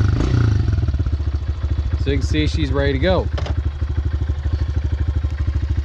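A Honda CRF 125F big-wheel dirt bike engine idling close by with a steady rapid putter, while someone talks over it.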